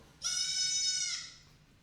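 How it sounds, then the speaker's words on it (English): A baby goat gives one loud, sustained bleat with a clear quavering tone, heard alone in a quiet setting with no talking. "The baby goat."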